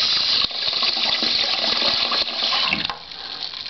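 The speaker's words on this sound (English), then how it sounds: "As the water's filling up," Water rushes steadily through a ball-float inlet valve into a toilet cistern, a loud, continuous hissing gush that drops off slightly near the end.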